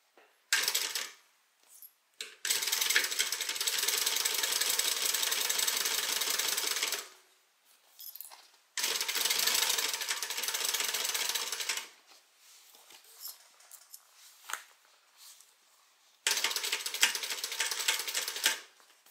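A sewing machine stitches the seam of a tote bag in several long runs of rapid, steady mechanical clatter, each lasting a few seconds and separated by quiet pauses with faint handling noises, close and clear with no talking.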